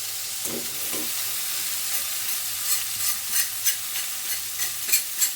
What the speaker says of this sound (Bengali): তো দেখো আলুটা মোটামুটি আমার কিন্তু ভাজা ভাজা হয়ে গেছে, এখন আমি কপিটা দিয়ে দেবো।